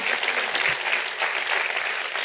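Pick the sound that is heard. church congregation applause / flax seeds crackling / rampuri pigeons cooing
church congregation applause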